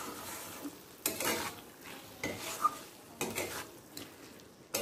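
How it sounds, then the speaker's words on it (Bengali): Potato and ridge gourd poppy-seed mash with mustard oil is stirred in a pan, with about five distinct scraping, squelching strokes at roughly one-second intervals, close and fairly quiet, with no talk. "দিয়ে আর একবার মিশিয়ে নেব।"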